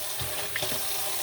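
Tap water runs steadily into a kitchen sink to wash a crock pot, a constant close hiss and splash with no talk.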